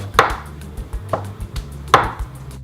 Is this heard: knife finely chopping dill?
yes